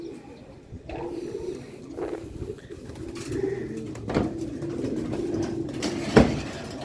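Pigeons coo repeatedly while being fed outdoors, soft rolling calls recurring close by over a low background, with a few sharper thumps and rustles.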